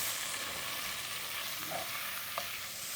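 Onions sizzling and frying in a pan during home-style cooking, a steady soft hiss with faint stirring, heard alone without talk.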